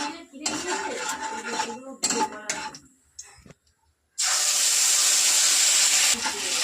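Whole cumin seeds dropped into hot oil in a wok set back on the stove: clattering pots and utensils first, then a sudden loud, sustained crackling hiss of sizzling seeds that runs to the end.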